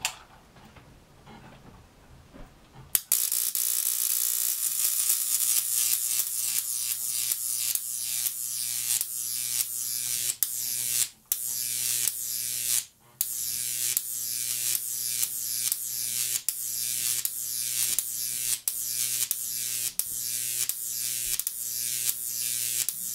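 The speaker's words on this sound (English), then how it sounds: "I'll start on a low power setting and begin to turn it up so that you can see the difference in the arc." Jacob's ladder electric arc powered by a 10,000 volt supply, starting at low power and turned up: a loud, steady buzzing crackle with rapid ticking pulses and a couple of brief dropouts, no talking.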